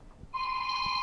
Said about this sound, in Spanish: ¿Me deja que vaya a cortar ese teléfono o lo dejo ahí nomás que suene?